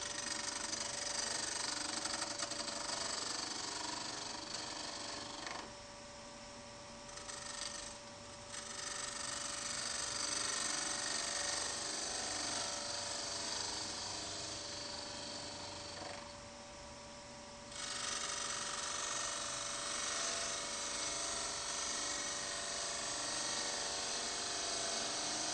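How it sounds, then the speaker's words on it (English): A wood lathe runs with a steady motorized whine while a 3/8-inch fingernail-ground spindle gouge trims the wood face flat. The tone dips twice, probably as the cut engages, and it runs continuously with no talking. "Switch on the lathe and using a 3/8 fingernail ground spindle gouge,"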